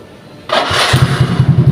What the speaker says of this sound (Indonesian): Mau kita coba tes jalan, coba kita nyalakan dulu.